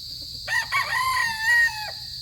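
A gray breeder rooster, an abuhin Boston bloodline, gives one full crow, a loud, close call with a rising start and a long held ending, heard alone over faint background noise.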